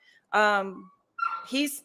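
A dog at home during a podcast recording gives two short, close, whining yelps separated by a brief pause, with no talk in between.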